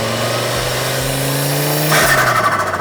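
A Volvo station wagon set up for grip driving revs hard, its engine note climbing steadily and then surging into a loud, rough roar near the end, with no talk over it.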